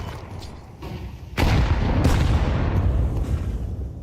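Grenades going off in a Counter-Strike match: a muffled boom followed by a heavy, sustained rumble and a second blast, loud and close in the game mix.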